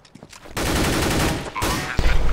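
Gunfire in a Counter-Strike pistol round mid rush, a loud dense stretch of rapid shots followed by a brief lull and a few more sharp bangs.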